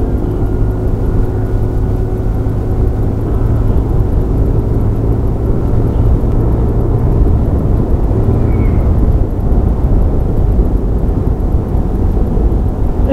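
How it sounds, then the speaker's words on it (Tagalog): Airplanes flying overhead at an air show exhibition, a steady loud engine drone that holds throughout with no pauses, broad and continuous as if several aircraft pass in turn. "Mga aeroplano nag-exhibition."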